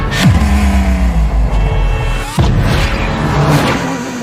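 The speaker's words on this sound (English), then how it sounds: "Remember Doctor Strange, they crashed the car?" A car crash in an animated Doctor Strange episode, with a loud engine revving and whooshing past before a sudden heavy impact, followed by more rumbling motion.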